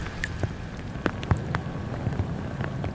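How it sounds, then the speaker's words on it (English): Steady rain falls on a surface outdoors in Kalamazoo, a continuous soft patter with scattered sharper drop impacts, moderately loud and with no voices. "We're seeing some rain right now, mainly east of US 131."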